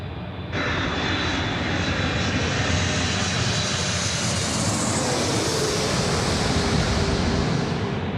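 A Singapore Airlines jet on final approach to runway 16 right at Sydney Airport at night roars in with a loud, steady, broadband engine rumble that sets in abruptly and holds for several seconds.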